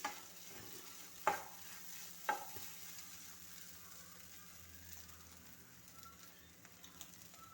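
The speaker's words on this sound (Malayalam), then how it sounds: "ഇപ്പോൾ നമ്മൾ 2 മിനിറ്റ് ശേഷം അടപ്പ് തുറന്ന് വീണ്ടും ഇളക്കി കൊടുക്കുകയാണ്" Soya roast is stirred in a pan after the lid comes off, with a few sharp utensil knocks early on over a faint, steady low sizzle.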